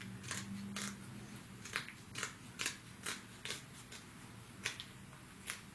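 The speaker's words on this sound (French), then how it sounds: "il faut aller couper l'excédent" Scissors snipping off an excess strip of paper for scrapbooking, a series of sharp, close, crisp cuts in an irregular rhythm, quiet in between, with no talking.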